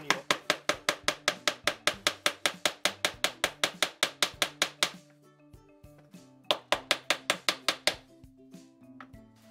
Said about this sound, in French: il ne reste qu'à introduire les petits bouts de bois à l'aide d'un maillet